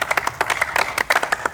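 Applause breaks out at a live comedy show, a crowd clapping in quick, uneven bursts that stay steady and fairly close throughout.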